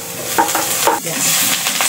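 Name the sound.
onion and garlic sautéing in cooking oil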